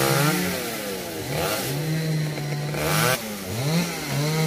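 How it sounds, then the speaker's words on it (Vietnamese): A chainsaw cuts through the branches of a large, old tamarind tree, its engine roaring loud and close with repeated revving swells and dips as it bites into the wood, with no talking over it. "Anh Dân anh cưa khá là nhanh nha các bạn."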